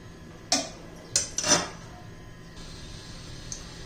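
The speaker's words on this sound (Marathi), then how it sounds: "त्याच्यावर आपण आता झाकण ठेवून एक दोन मिनिट असंच ठेवूया" A metal lid is set onto a cooking pot of raw mango and jaggery, giving a few light clinks and clatters in close succession, then a quiet low hum.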